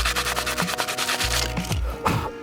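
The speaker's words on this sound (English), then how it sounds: "I'm going to use a little sandpaper just to try and roughen up this metal a little bit." Sandpaper roughening a metal emergency brake cover on a Dodge Challenger, a quick series of close, raspy back-and-forth strokes, alone and fairly loud.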